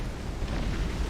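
Cannon fire during a naval battle between battleships in an offline strategy video game, a brief rumbling blast of dense low booms and crackle, steady and fairly loud for about a second.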